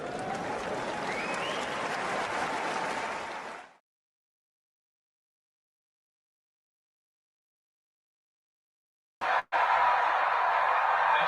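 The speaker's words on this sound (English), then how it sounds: "That is the sound of the crowd, happy as Arthur Ferry wins his first point of the match." At a Wimbledon semi-final between Zverev and Fery, the tennis crowd bursts into applause and cheers for a point, a broad roar for several seconds that cuts off, followed by silence, then applause resuming abruptly.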